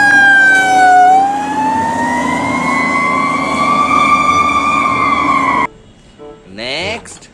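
A miniature toy fire rescue truck wails with a loud, steady electronic siren that rises and holds its tone close by for several seconds, then cuts off abruptly, followed by a brief excited voice.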